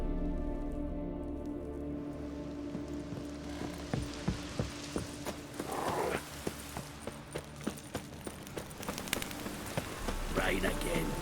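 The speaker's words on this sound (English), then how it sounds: "Rain again. Damn mages." Steady rain pours across the world of The Witcher 3: Wild Hunt, a dense, even hiss that runs through the whole stretch. Scattered knocks and clatters sit on top of it, and voices talk over it now and then.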